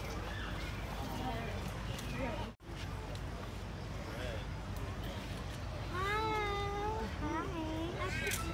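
A cat meows a few times at a moderate distance in an outdoor setting, the wavering calls mostly toward the end over steady background noise and murmuring voices.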